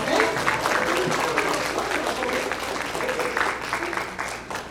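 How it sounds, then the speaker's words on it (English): An audience at a Valley Senior Services Council community gathering breaks into a steady, dense round of applause that holds for several seconds before starting to taper, close and fairly loud. "And you have a round of applause for Debbie Costa."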